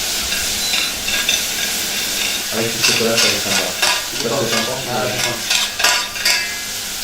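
Banana pieces cooking quickly in a hot pan are stirred and mashed into a compote, giving close sizzling and scraping with rhythmic bursts while people talk over it.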